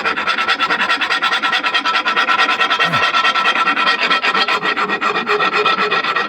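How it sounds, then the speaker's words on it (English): A curved hand file rasps steadily back and forth inside a metal bushing hole on a Jeep XJ upper control arm, honing off burrs in close, continuous, evenly rhythmic strokes with no talking. "I have a curved file, and I'm just going to hone out this hole, take off any burrs."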